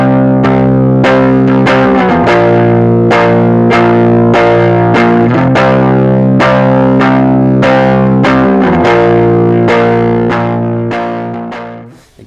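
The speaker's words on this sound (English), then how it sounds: "the rhythm guitar on the right was the Les Paul played on the neck pickup. That's going into a Fender Blackface twin style amplifier" Les Paul rhythm guitar on the neck pickup through a Fender Blackface Twin-style amp with two 12-inch speakers, miked up close. Loud, overdriven chords are strummed in a steady, driving pattern, then ring out at the end.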